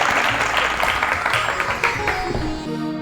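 Applause from a studio audience at a televised Bhojpuri folk music show, a dense, steady patter of clapping lasting about three seconds before a few faint musical tones come in near the end.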